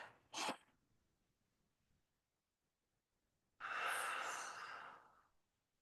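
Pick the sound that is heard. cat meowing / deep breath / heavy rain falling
deep breath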